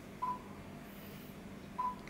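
Two short DTMF dialing beeps from a Belsee Android 8.0 head unit in a 2013 Chevrolet Malibu, spaced about a second and a half apart over a low steady hum inside the car.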